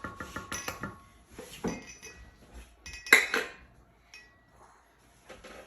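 Dishes and cutlery are shifted aside in a home kitchen, a series of clinks and clatters in bursts, close and fairly clear, with quiet pauses between.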